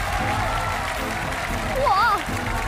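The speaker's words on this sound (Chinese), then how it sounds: "来，接下来掌声有请他闪亮登场" Audience applause welcoming a contestant onto a televised variety-show stage, continuous beneath a loud music bed and a brief sung or exclaimed voice near the end.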